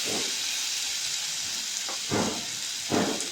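Crushed ginger and green chili hitting hot oil in a frying pan with mustard seeds, asafoetida and curry leaves, a steady loud sizzle with a few louder bursts as they drop in.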